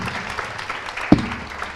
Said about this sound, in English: Round of applause, please, for our panelists.